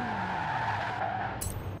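Ferrari F12 driving in the racing game Forza Horizon 4, a faint, steady engine drone with tire squeal and skidding noise, ending in a brief sharp burst.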